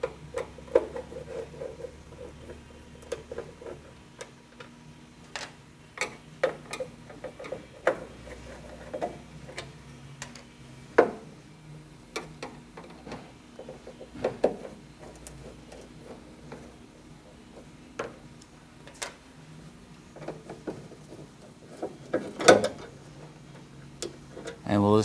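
Screws and half-inch bolts come out of a 1967-1972 GM truck cowl one by one, with scattered metallic ticks, clicks and tool taps spaced irregularly across a quiet garage, and someone talking now and then.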